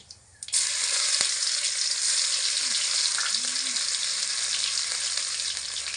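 Cumin, dried chilli, bay leaf, green chilli and ginger paste hit hot oil and sizzle loudly and steadily, a continuous close hiss that starts abruptly and holds, with a faint spoon clink.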